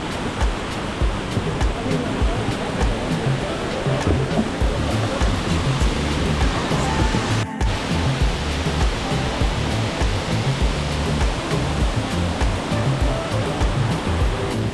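A wild waterfall in Doi Inthanon National Park, Thailand, roars with a steady, loud rush of falling water that fills the whole stretch without a break.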